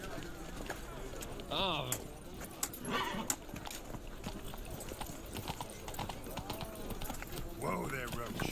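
Roach, Geralt's horse in The Witcher 3, gallops with steady clip-clop hooves and lets out several rising neighs, while voices talk over the hoofbeats.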